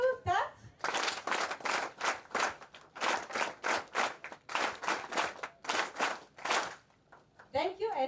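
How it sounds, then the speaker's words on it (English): A workshop audience claps in unison in counted rhythmic bursts, a series of sharp group claps in short clusters, with brief voices at the start and end. "let us at least appreciate Maureen with 5 factorial claps."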